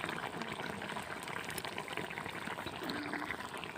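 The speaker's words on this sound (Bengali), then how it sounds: "ঝোলটা ফুটে গেছে, আমার ঝোলটা একেবারে রেডি" Curry gravy with cauliflower and egg bubbles in a pot, a steady, dense boiling hiss and burble that continues evenly throughout at moderate level, with no voices.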